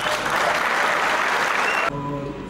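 An audience at a fight event bursts into dense, continuous applause that fills the space, then cuts off abruptly and leaves a quieter room tone with faint tonal hum.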